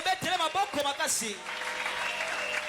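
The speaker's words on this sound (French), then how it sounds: "Est-ce qu'on peut l'acclamer plus fort?" A church congregation at a Friday worship service claps and cheers together. A preacher speaks loudly over the start, then broad applause and cheering swell and carry on steadily.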